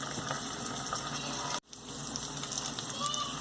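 Ginger garlic paste sizzling in a hot pan after onions for chana masala, a steady crackling fry throughout with a brief dropout midway.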